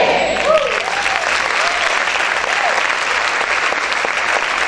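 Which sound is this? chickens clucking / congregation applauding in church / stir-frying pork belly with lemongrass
congregation applauding in church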